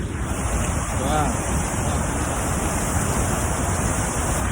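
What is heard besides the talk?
Huka Falls waterfall rushing water, Taupo New Zealand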